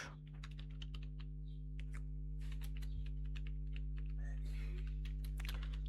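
Keys being typed on a computer keyboard, quick irregular clicks in short bursts over a steady low electrical hum, quiet and close.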